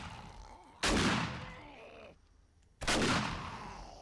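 Two loud gunshots fire in 7 Days to Die, the first near the one-second mark and the second about two seconds later, each a sharp blast with a decaying tail.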